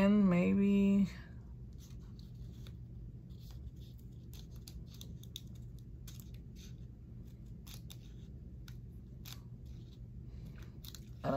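Scissors cutting music paper to make doilies, a series of soft, irregular snips and paper rustles after a short burst of louder sound at the start.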